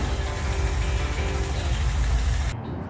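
Newly installed engine of a VW T3 camper van runs at a steady idle, a loud, even low rumble that continues without talk and cuts off abruptly near the end.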